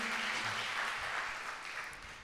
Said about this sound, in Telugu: చప్పట్లు కట్టి దేవుణ్ణి స్తుతిద్దామా?